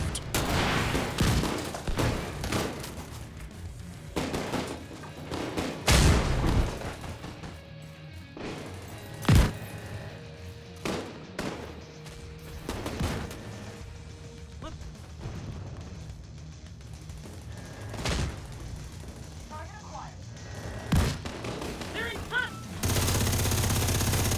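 Gunfire in The Division 2 comes as repeated bursts and single sharp shots, some loud and close, scattered over a rumbling battle background, with speech heard at times.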